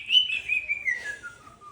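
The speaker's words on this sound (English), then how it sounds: "very vocal Kaik parrot." A caique parrot, a very vocal bird, gives a run of bright whistled chirps that slide gradually downward in pitch, sounding close and clear with no talking over it.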